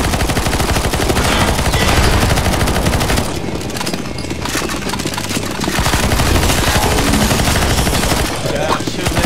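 Rapid automatic gunfire from CS:GO Zombies, loud and nearly continuous, a dense stream of shots that thins briefly in the middle before the firing resumes.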